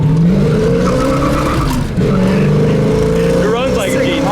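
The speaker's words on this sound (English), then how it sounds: "that GT exhaust sounds really good" A 1966 Mustang GT Fastback with a 4-speed drones loudly and steadily on the road, its exhaust rising and falling with engine speed, with a short dip near the middle and a voice talking over it.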